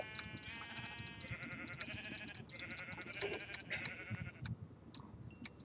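Minecraft sheep bleating repeatedly in a quick, wavering run of close, clear bleats that fade out toward the end, with no talking over them.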